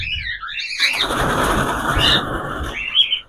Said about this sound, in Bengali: খালি পাখিগুলোর আওয়াজটা দেখুন